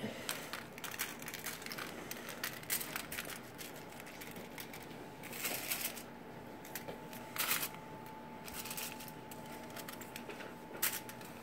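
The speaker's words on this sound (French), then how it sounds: "Et on parsème notre pain de graines. Voilà, on appuie un petit peu." Seeds sprinkled by hand over homemade bread dough and pressed lightly in, giving soft scattered patters and crackly taps in irregular bursts, close and quiet with no talk.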